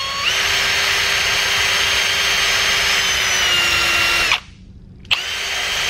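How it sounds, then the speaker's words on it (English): A small Dremel rotary tool fitted with a sanding barrel whines loudly and steadily up close for about four seconds, cuts off briefly, then spins back up. "Even a small Dremel with a sanding barrel on it."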